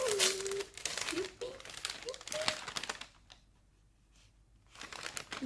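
Crinkly wrapping paper rustles and tears as a small, soft swap parcel is opened, in bursts with short pauses, while someone talks over it.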